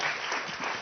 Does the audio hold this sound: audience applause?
yes